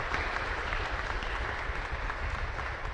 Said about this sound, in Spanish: Otro fuerte aplauso para el Padre